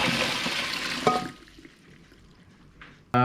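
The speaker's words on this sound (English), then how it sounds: "So let's drain the water out." Hot blanching water drains off green beans in a rushing, splashing pour that cuts off abruptly after about a second, followed by a few faint drips and a final sharp clatter.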